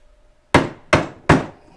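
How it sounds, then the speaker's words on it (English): Hammer striking a toy part during assembly of a child's toy, three sharp, evenly spaced whacks about a third of a second apart, loud and close, each with a short decaying ring, no talk. "Need the hammer."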